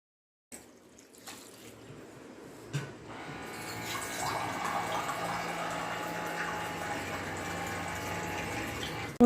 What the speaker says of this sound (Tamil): 2 கிளாஸ் தண்ணி போட்டாச்சு.